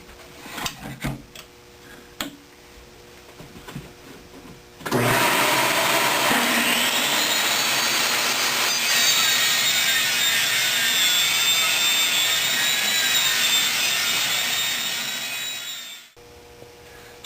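A saw cuts through an aluminum frame expander, its pre-finished face protected, with a vacuum hose drawing off chips; a loud, steady high whine runs for about eleven seconds and then stops, following a few quieter clicks.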